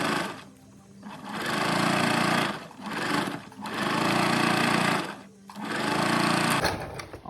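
A sewing machine stitches a fabric seam in three long, loud motor runs, each separated by a brief pause, with no talking.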